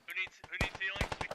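Gunfire from Russian forces in the video game Squad crackles in quick bursts of close, sharp shots, overlapping with voices talking throughout.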